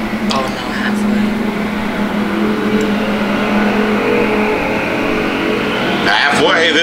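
Race cars roar around the Thunder Hill Speedway track during a final-night points race with a 3-car battle for the lead, a dense steady engine drone under continuous announcer commentary.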